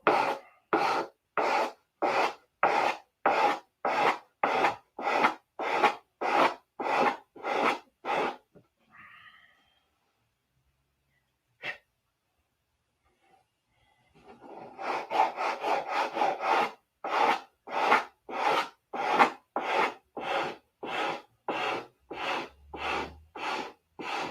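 Wood is carved and rasped by hand to round the body of a P-47 model, heard as a close run of regular, evenly spaced scraping strokes that pauses briefly in the middle before resuming at the same steady rhythm.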